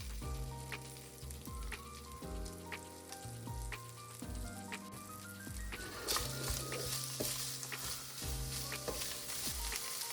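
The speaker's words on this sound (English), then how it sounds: "Now let's turn the heat down to low and then add half of a red onion and 3 cloves of garlic." Half a red onion and three cloves of garlic sizzle steadily in a pan over low heat, a continuous crackling fry that fills the whole clip with no talking.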